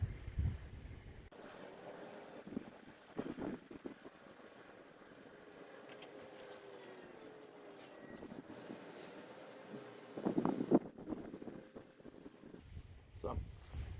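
Strong wind gusts buffet an outdoor microphone, with a low, steady rushing noise and louder bursts near the start and end, while a person speaks quietly in places.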